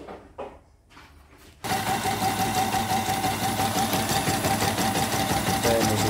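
A YOKO embroidery machine runs a test after setup and cleaning. After a few separate clicks and knocks it starts up and hums with a fast, steady mechanical chatter that continues throughout.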